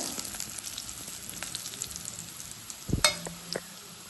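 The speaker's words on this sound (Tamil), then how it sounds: "வதக்கி வச்சிருக்கிற சிக்கன் நல்லா பொரியணும் இது இப்படி பொரிஞ்சிட்டு இருக்க நேரம்" Sautéed chicken frying in a pan, a low steady sizzle with light crackles, then a sharp metallic clank and brief scraping near the end, heard close with no voices.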